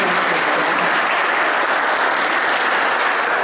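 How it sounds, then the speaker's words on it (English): An indoor audience at a museum exhibit opening claps steadily, a dense, even wash of applause that holds at full strength throughout with no voices above it. "we'll give them a round of applause"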